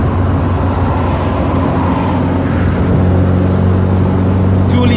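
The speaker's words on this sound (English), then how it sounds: "I prefer to have the windows down. Just to hear this engine." A 1979 Alfa Romeo Alfetta 2.0 carbureted engine drones loudly and steadily from inside the moving car, windows down, a low rumbling growl mixed with road and wind noise.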